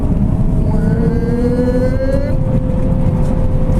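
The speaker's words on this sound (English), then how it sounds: "it's got a great sounding engine" A loud car engine in a manual transmission vehicle drones steadily, its pitch climbing smoothly as it revs up, then settling, with a constant rumble underneath.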